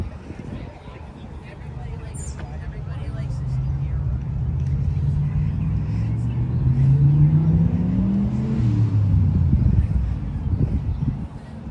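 A white diesel truck at an antique truck show runs with a loud, close, low rumble, its pitch climbing and sliding as it moves past, while people talk nearby.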